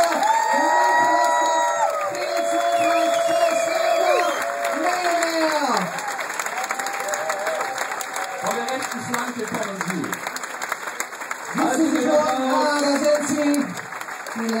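A poetry slam audience claps loudly and cheers for the slam poets, dense sustained applause with whoops, and a voice talks over it partway through.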